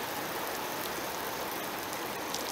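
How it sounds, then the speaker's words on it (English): A pressure washer's soaking rain-rinse nozzle sprays water over a car, producing a steady, even hiss of falling spray like heavy rain, with no voices. "This is a soaking rain rinse."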